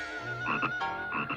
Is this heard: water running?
no